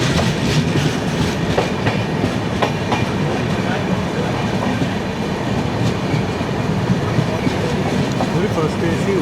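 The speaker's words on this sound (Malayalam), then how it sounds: "പഴയ ഡബിൾ ഡെക്കർ എക്സ്പ്രസ്." Old double-decker express train rolling past a small level crossing, steady close clatter of wheels over rail joints with metallic rumble throughout.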